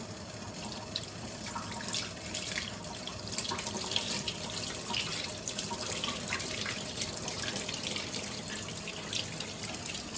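A kitchen tap runs steadily into a sink while raw beef is rinsed under it, giving a continuous close splashing rush with faint irregular drips and patters throughout.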